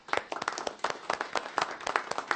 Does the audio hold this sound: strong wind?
no